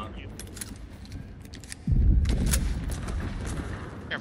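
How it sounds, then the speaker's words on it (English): A barrel blows up in a video game with a sudden loud, deep boom midway, then a sustained rumble under gunfire and overlapping chatter between players. "Blowing a barrel up."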